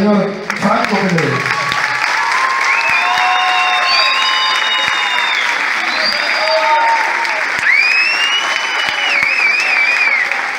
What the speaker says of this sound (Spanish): Señoras y señores, les pido que den el último gran aplauso cerrado